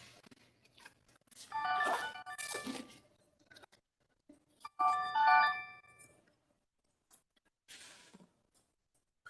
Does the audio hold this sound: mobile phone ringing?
yes